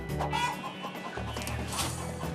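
Chickens clucking on a free-range farm at Rancho Margot in Costa Rica, several close hens chattering in quick overlapping bursts, loud and busy throughout.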